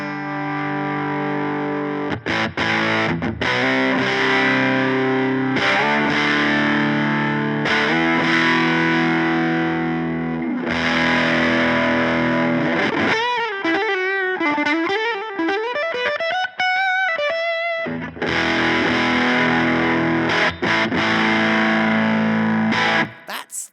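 Gritty, heavily distorted electric guitar through a Buzzing Bugs preamp reverb pedal, loud and continuous with sustained chords, a stretch of wavering single-note bends in the middle, then full chords again.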